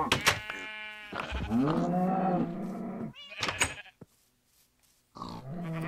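Sheep bleat in Minecraft alongside other farm animal calls. There are a few loud, wavering cries close by, then a short quiet gap before another call starts.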